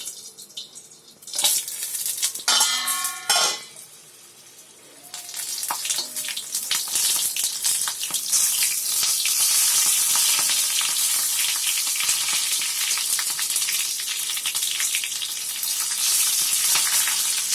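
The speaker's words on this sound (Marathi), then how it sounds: "मिरचीचा आवाज बघा होतोय, तडतड उडते मिरची" Green chillies frying in hot oil for an everyday rice-plate meal, a loud continuous crackle and sputter that builds after a few clinks and rises to a close, dense hiss.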